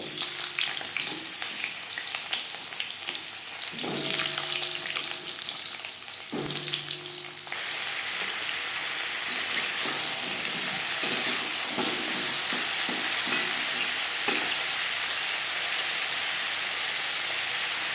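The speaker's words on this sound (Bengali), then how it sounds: "সবার প্রথমে আমি পটল ভেজে নেব" Pointed gourd (potol) fries in refined oil in a kadai, giving a loud, continuous sizzling hiss with occasional stirring scrapes throughout. No voices are heard.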